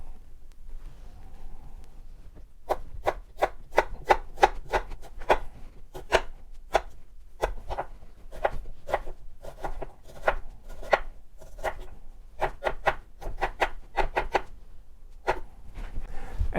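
A knife chops an onion on a cutting board for an Afghan salad, giving crisp, fairly quick cuts in steady runs separated by short pauses.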